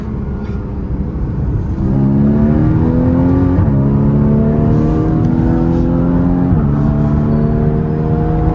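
A Porsche Cayman S 981 engine revs hard and steadily near the listener, its pitch climbing in sweeps, with the PDK gearbox shifting at about two and seven seconds, each shift dropping the pitch with a brief crackle.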